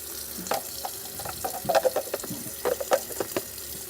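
Water splashes and trickles intermittently as a Gaggia Velasca Prestige espresso machine's water tank is refilled from a tap, with irregular sloshing bursts at close range and no talk.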